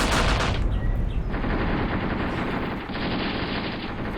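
Infantry units trade gunfire in Graviteam Tactics, an African tank battle during Operation Hooper: continuous loud rattling automatic fire from several weapons, dense and sustained with no pauses.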